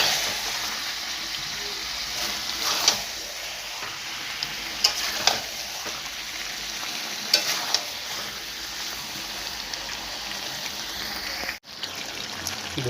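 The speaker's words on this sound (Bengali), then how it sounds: "বেশ কিছুক্ষণ নাড়বেন যাতে মশলাটা ভাজা হয়ে যায়।" Meat with a spice mix fries in a pan while a cook stirs it. A steady, fairly quiet sizzle runs throughout, with occasional soft clinks and scrapes from the stirring and a brief drop near the end.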